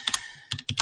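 Computer keyboard typing during a coding session, a few quick clusters of close, crisp keystrokes separated by a brief pause.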